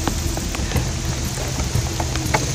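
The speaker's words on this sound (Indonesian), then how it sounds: "Di sini udah hujan." Heavy rain falls outdoors during a mushroom-hunting outing, a dense, steady patter of drops striking surfaces close by, with scattered louder splats.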